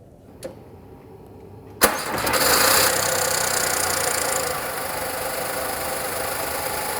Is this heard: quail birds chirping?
no